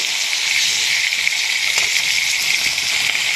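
Koi fish frying in hot oil produce a loud, close, unbroken hiss of sizzling that holds steady the whole time, with nothing else standing out.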